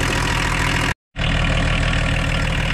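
A vehicle engine converted to run on veggie oil idles steadily and loudly up close, its low rumble broken by a brief total dropout before resuming unchanged.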